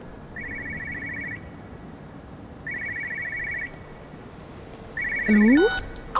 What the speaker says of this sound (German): Oh, ich höre ein Telefon.